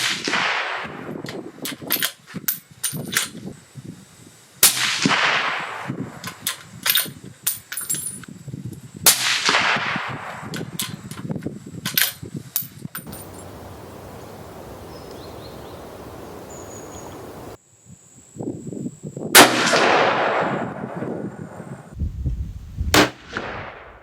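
A Savage 110 bolt-action hunting rifle in .308 fires a series of loud, sharp shots outdoors, each crack separated by pauses of a few seconds, with a quieter stretch of background hiss midway and no talking.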